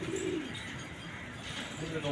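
Pigeons cooing at a pigeon loft, soft repeated throaty coos with a few chirps, fairly close and steady over a continuous background hum.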